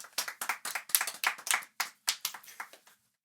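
A small podcast audience claps by hand, the individual claps distinct in a quick, uneven burst that trails off after about three seconds, close and fairly soft, with no talking over it.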